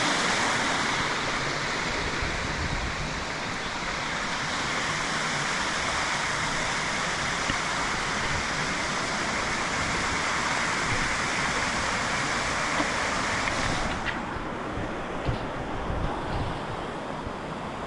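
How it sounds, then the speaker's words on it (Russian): Large waterfall by the ocean, a steady loud broadband roar of falling water mixed with surf and wind noise on the microphone, continuous throughout. "Я первый раз такой большой водопад в жизни вижу."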